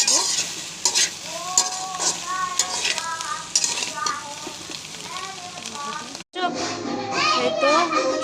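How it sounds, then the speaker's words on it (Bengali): Washed soya chunks frying in oil with salt make a loud, close sizzle, with repeated scraping of a stirring spoon against the pan. Children's voices chatter in the background and the sound cuts out for a moment near the end. "এখন এই যেগুলি সব তেলে ভেজে নেব একটু লবণ দিয়ে"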